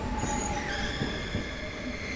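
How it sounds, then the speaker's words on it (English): A train on a Glasgow-to-London line grinding to a halt, a steady loud rumble with high metallic wheel squeal drawn out over the rails, continuous throughout with no voices. "the train makes an unexpected stop"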